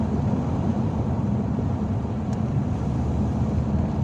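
Steady, loud rumble of a MK4 Volkswagen Golf GTI with a 2.0-litre 8-valve engine and five-speed gearbox, heard from inside while driving on a dusty road, with even engine and road noise throughout and no talking.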